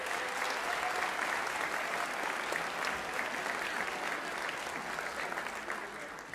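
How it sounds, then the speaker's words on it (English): Audience applauds students at a Finneytown school band winter concert, a steady, dense wash of many hands clapping evenly for several seconds without a break, fairly distant in a large hall. "So let's give those students a round of applause."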